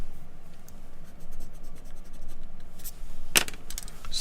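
Pencil sketching on paper for a mountain landscape drawing, close and steady scratchy strokes with a few sharper taps, no talking.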